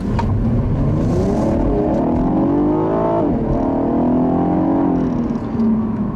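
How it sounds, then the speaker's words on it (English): A naturally aspirated 3.6-litre V6 in a 2015 Cadillac ATS Coupe revs hard and close, its pitch climbing steadily toward redline, dipping briefly at a shift, then rising again in a continuous loud drone. "Another thing I love about this naturally aspirated V6 is the noise it makes."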